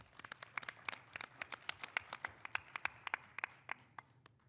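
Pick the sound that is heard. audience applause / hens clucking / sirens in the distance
audience applause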